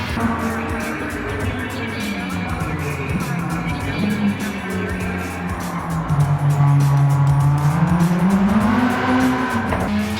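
A Honda S2000 running on racing slick tyres in Gran Turismo on PS5, its engine revving loudly and continuously with the pitch rising and falling through gear shifts, and tyre noise underneath.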